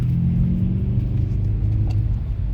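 A Mercedes V200 van's engine revs up close, a loud, steady low rumble that holds throughout with a slight swell, no voices over it.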